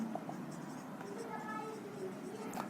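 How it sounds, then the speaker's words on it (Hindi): A pen or marker scratches out writing on a board or paper in short, close, faint strokes, and someone speaks quietly in Hindi alongside it. "तो यहां लिखेंगे इक्विटी"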